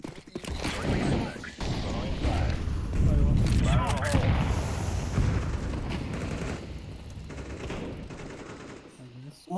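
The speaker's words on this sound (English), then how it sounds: "So you hear the gunshot." Bursts of rapid Counter-Strike 2 gunfire crackle in the foreground, with speech-like voices mixed in and a short pause before it resumes.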